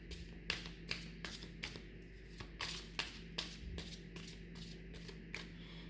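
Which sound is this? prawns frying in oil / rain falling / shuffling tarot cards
shuffling tarot cards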